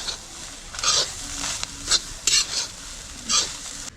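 Ten to twelve dried red chillies roast in a pan for Kerala-style chammanthi podi, giving soft sizzling broken by several short scraping bursts as they are stirred, close and fairly loud.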